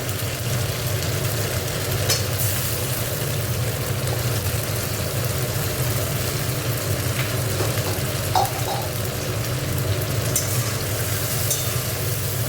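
Spice paste with tomato, turmeric and green chilli sautéing in a pan for cabbage ghonto, a steady loud sizzle and fry with occasional stirring scrapes over a constant low hum.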